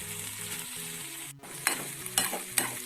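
Masala being stirred into plantain thoran in a frying pan: a sizzling bed of frying with several distinct scrapes and stirs of a spoon against the pan, fairly close and without talk.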